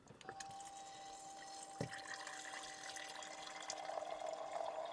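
Water runs steadily from a tap into a small folding electric kettle, filling it to 600 ml, with a sharp clunk near the start and the pour growing a bit louder toward the end.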